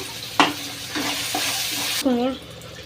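Tomato paste for a fenugreek egg masala sizzles and fries in a pan, with a steady close crackle, a few scraping stirs, and a brief bubbling burst near the end.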